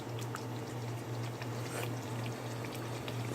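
A pot of chili-seasoned soup simmers on the stove, giving a steady low hum with a soft, constant bubbling hiss and scattered faint pops.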